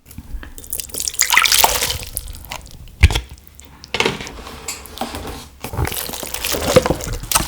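Cup ramyun noodles and broth pour into a large bowl in splashy, dripping bursts, with clinks of the container against the dish between pours.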